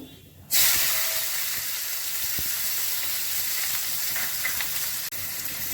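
Chopped onion hits hot oil in a pan with already-fried pabda fish and nigella seeds, bursting into a loud, continuous sizzle that holds steady, with a faint clink partway through.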